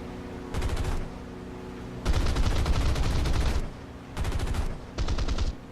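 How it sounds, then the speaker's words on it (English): Browning .50 caliber machine guns in the War Thunder flight combat game fire in four loud rapid bursts of varying length, each a dense staccato rattle over a steady engine hum, with short pauses between bursts. "And they changed the sound of the Browning M250 cals."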